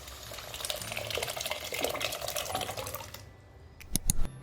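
Water pours steadily into a pot of sautéed mixed lentils for about three seconds, then stops, followed by a couple of sharp clinks of a vessel being handled nearby.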